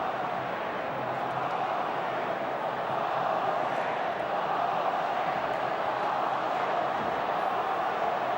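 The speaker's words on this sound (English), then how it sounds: "Capacity crowd here at Aussie Stadium." Steady roar of a capacity stadium crowd at Aussie Stadium during a 2004 NRL preliminary final between Penrith Panthers and Canterbury-Bankstown Bulldogs, a continuous dense wash of voices at even loudness throughout.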